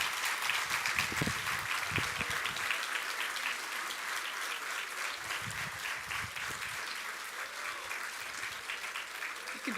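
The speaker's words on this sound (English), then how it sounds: "Let's give a round of applause for the class of 2026 again." A seated audience claps steadily for the graduating class at a physical therapy white coat ceremony, a continuous, even patter, with a few low voices and thumps close by underneath.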